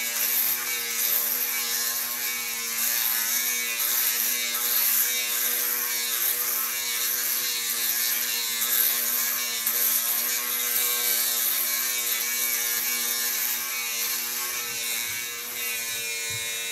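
A small electric hair clipper buzzes steadily against a scalp, a close, continuous high-pitched whine with a faint rasp as it passes over short hair, with no voices.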